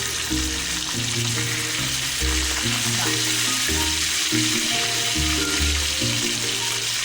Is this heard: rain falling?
no